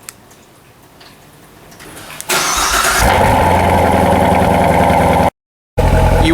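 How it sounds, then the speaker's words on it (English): A C7 Corvette Stingray fires up from cold in the rain, its starter cranking into a sudden loud roar that settles into a heavy, steady high idle, broken by one brief dropout. "let's go ahead and do a cold start"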